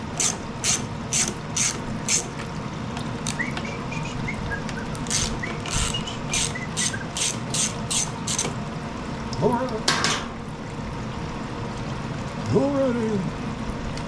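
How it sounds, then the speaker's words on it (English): A ratchet clicks in rapid bursts while removing stud bolts from a TroyBilt TB130 push mower, the fast ticking repeated several times at close range over faint background noise, with a couple of squeaks between runs. "Then we'll take the two stud bolts out of here."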